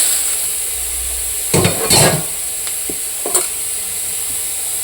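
Green chilies frying in a pan give a steady hiss with a couple of louder bursts of crackling spatter and a few brief clicks, close and fairly loud.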